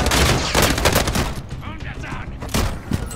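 Loud rapid gunfire from a gun in Call of Duty, dense bursts up front, a pause with faint background noise, then a few more shots near the end.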